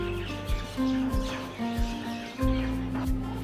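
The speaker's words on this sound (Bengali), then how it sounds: "নিচে থেকে বেশ কিছু শালিক পাখির কিচিরমিচির শোনা যাচ্ছে।" Several common mynas chirp and whistle below a hotel in Puri, a busy overlapping chatter of repeated calls with short tonal notes and sharp bursts, fairly close and steady.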